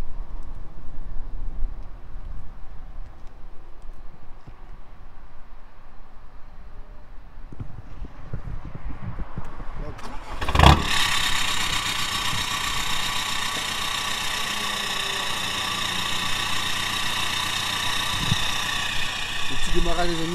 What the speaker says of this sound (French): Ok, bah je vais te laisser démarrer la voiture.